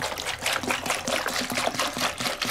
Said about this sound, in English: And what we're gonna do is just pour it in a bucket.